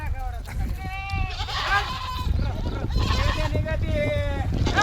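Goats bleat repeatedly while being washed in a pond, their wavering cries rising over the splash of water, with people talking throughout.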